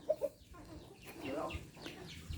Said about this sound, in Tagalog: Ayan, ang daming mga manok dito.